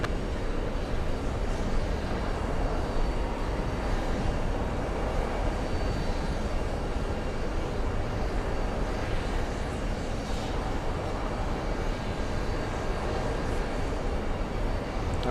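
A jet airliner rolls along runway 22 left at a busy airport, its engine roar a steady, loud broadband rumble that holds at an even level throughout with no pauses.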